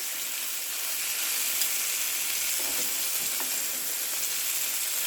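Chicken frying in a pan over medium heat gives a steady, dense sizzle that holds evenly for about five seconds, close and fairly loud, with a few faint stirring touches and no voices.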